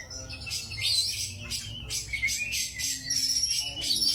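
An oriental magpie-robin sings at a songbird gathering, its loud, bright, fast chirping phrases running almost continuously, close and clear over a low background murmur.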